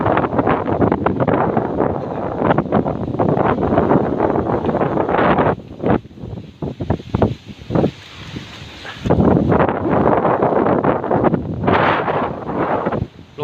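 Strong wind buffets an outdoor microphone in loud, roaring gusts that ease briefly midway before surging back to full force, with no voices heard.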